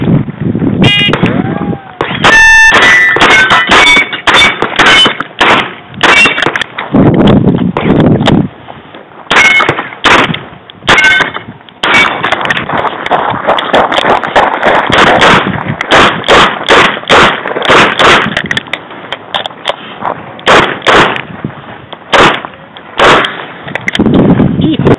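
Gunshots at an ICORE shooting match ring out outdoors as a rapid, irregular string of loud, sharp cracks running through the whole stretch, with people talking in between.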